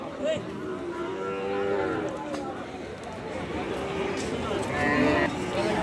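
Pakistani Sahiwal cattle at a livestock market give several drawn-out moos, close by and fairly loud, while people talk throughout and the bustle of the market carries on around them.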